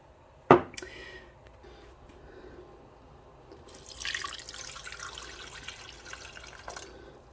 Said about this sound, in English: I'm gonna put a little bit of water in here.